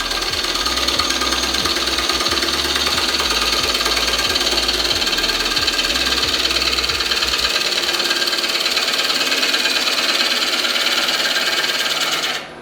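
A wood lathe spins a bowl while a sharp chisel cleans up the surface, producing a loud continuous scraping hiss with a rapid rhythmic knock over the first half, then winding down at the end.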